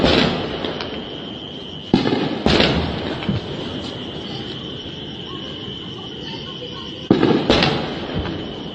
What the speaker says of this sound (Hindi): पूरे बॉर्डर पे फायरिंग हो रही है अभी।